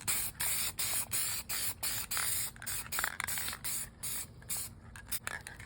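Vinyl paint hisses from a spray can onto Mercedes W124 console trim in short, even bursts, about a dozen quick sprays with brief gaps between them, close and fairly loud.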